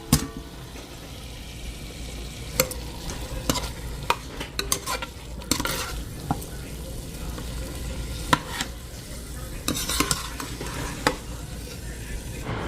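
Fried chicken stirred in a pan for a stir-fried dish, a low continuous sizzle with irregular sharp scrapes and clinks of a spoon against the pan, close and without speech.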